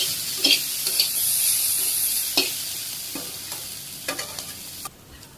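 Leafy greens and vegetables stir-fried in a pot over a village stove in Bangladesh, with a loud, close hissing sizzle and intermittent scraping stirs that ease off near the end.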